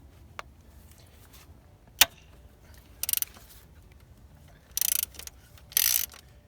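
A ratchet with a thin 12-point socket works on cylinder head bolts of a Honda 1.6 SOHC VTEC D16Y engine, giving a few short bursts of rapid clicking between sharp metallic taps, close and alone.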